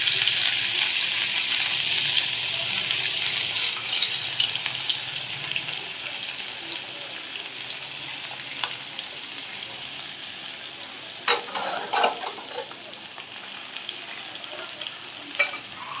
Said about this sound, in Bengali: সরিষার তেলটা আমি গরম করে নিতেছি তেল গরম হয়ে গেছে এখন মাছগুলো দিয়ে দিয়েছি